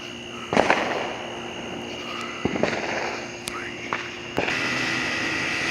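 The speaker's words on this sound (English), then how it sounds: "Look at the glow of the firecrackers lighting up." Fireworks and firecrackers bursting outdoors at night, a few sharp cracks and booms spaced out over a steady crackling background, moderately distant.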